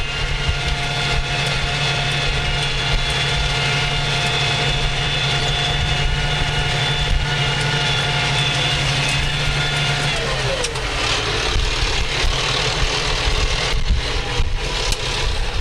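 A tractor engine runs slightly above idle during plowing, a steady close drone with a tonal whine that drops in pitch partway through, while someone talks over it.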